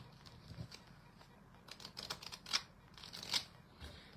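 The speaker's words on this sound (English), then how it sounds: "might just shuffle these cards here." Quiet, rapid riffling and soft flicking of playing cards being shuffled, with a couple of brighter snaps near the end.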